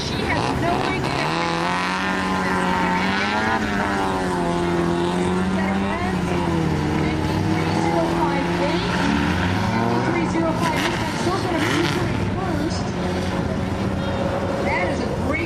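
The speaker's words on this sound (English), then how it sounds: "Cars and drivers on course." Race cars driving a championship tour course: a steady loud engine roar with rising and falling pitch as the cars accelerate and pass, running continuously under a commentator's voice.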